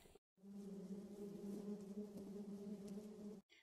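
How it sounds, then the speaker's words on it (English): A bee buzzes in a steady, continuous drone for several seconds, heard close up and alone. "Bee."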